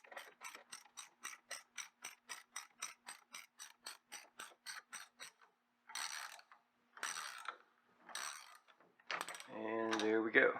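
A monoball bushing piston is pressed through a car's control arm, producing a long run of evenly spaced ratcheting clicks, then a few separate bursts of creaking and a louder grinding squeal as it finishes passing through.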